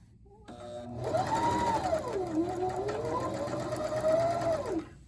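A sewing machine runs stitching the seam of a square pillow, a close, steady mechanical whir that starts abruptly, holds for about four seconds while its pitch rises and falls, then stops.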